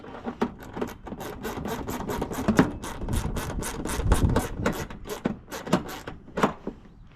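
A bolt on a 2007-2014 Cadillac Escalade HID low beam headlight is tightened with a ratchet: a close, rapid run of rhythmic clicks and scrapes repeats steadily over several seconds, with no voices.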